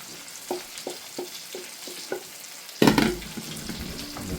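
Mushrooms, garlic and thyme go into a pan of nearly finished mushroom risotto. Soft rhythmic stirring scrapes give way to a loud burst of sizzling that keeps crackling steadily close by.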